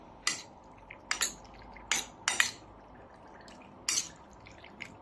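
A utensil stirs chicken salpicao seasoned with black pepper in a pan, making a handful of brief, sharp clinks and scrapes, irregular and close against a quiet background.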